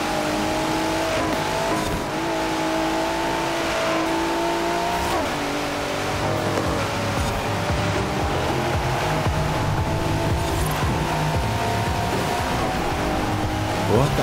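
Cars racing in Forza Horizon 4, with a continuous loud engine drone and shifting revs that rise and fall throughout, dense and unbroken with no clear gaps.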